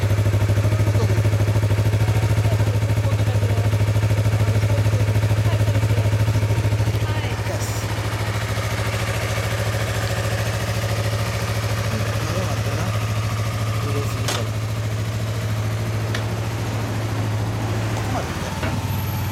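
A 2016 Yamaha MT-03 motorcycle idles with a steady low hum and some light mechanical clatter, while people talk over it nearby.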